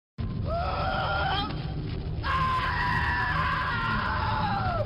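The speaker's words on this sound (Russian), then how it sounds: "Из глотки раздавались булькающие звуки, сменяя сопровождающиеся оглушительным визгом." A monster's loud, sustained, wavering shriek in two long bursts over a rough, bubbling, gurgling low rumble, with a brief break between the cries.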